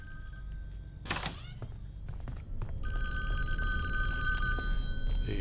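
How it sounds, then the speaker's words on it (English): Telephone in a Jason video game rings with a bright electronic trill after a short clattering burst, the ring sustained and steady over low background noise, moderately loud and alone. "if you put this date in first and hit set the date, you can hear the phone ring"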